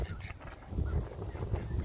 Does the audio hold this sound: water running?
no